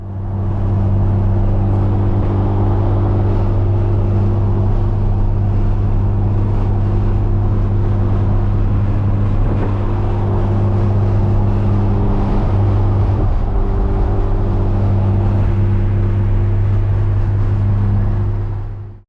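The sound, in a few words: K-swapped Porsche car driving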